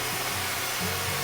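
A hair dryer on its hot setting, nozzle pointed down at the hair roots, blows a loud, steady, close whoosh of air with a low motor whine for the whole moment.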